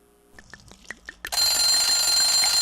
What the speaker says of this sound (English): That's just my egg timer.